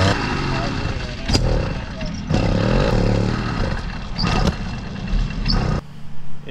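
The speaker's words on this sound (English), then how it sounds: "it does sound very much so like it is backfiring through the carburetor" An 85cc motorized bicycle engine runs roughly and poorly, popping and backfiring through the carburetor in loud irregular bursts, with someone speaking over the uneven engine noise throughout.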